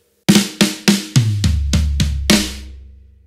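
A drum fill on a rock kit: snare flams opening and closing a run across the rack tom and three floor tom hits, about eight loud, close, ringing strikes with a low tom decay at the end, no talking.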